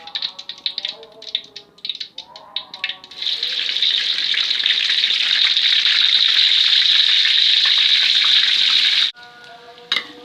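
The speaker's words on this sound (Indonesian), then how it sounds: "Lalu kita goreng tempe dengan api sedang." Tempeh drops into hot oil over medium heat and sizzles loudly and steadily for several seconds after earlier clattering kitchen sounds, then the frying cuts off abruptly.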